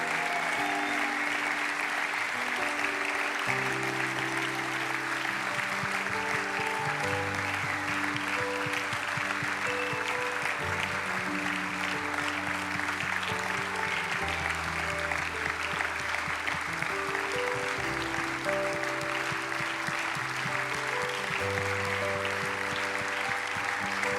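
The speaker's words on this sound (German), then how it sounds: "Wir klatschen." A church congregation at a Sunday night service claps steadily and at length, dense applause continuing the whole time over sustained musical chords from a band.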